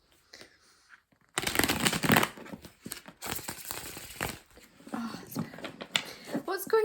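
Close, continuous riffling and snapping of tarot cards being shuffled, following a quiet start with faint movement.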